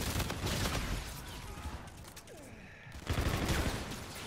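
Submachine gun fire in a video game, long dense bursts of rapid shots that ease off briefly in the middle, then resume loudly near the end.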